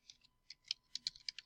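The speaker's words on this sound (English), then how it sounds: "You just hit delete on your keyboard, clicked on the one that you want." Computer keyboard keys are pressed in an irregular run of about a dozen crisp, close clicks with short pauses between them, no voices present.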